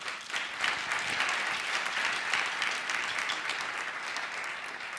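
Audience applause fills a Polish punk rock music show's studio, a steady dense clapping that holds loud and even throughout without any voices.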